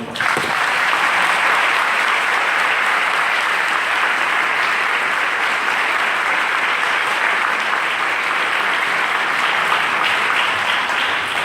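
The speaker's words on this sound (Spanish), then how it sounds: "¿Cuánto le da un aplauso al Señor?" Sustained applause from a church audience in Spanish-language preaching, steady and full for about eleven seconds with no break or voice over it.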